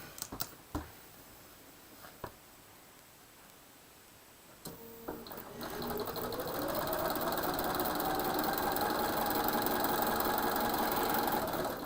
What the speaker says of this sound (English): now I can sew the right side of that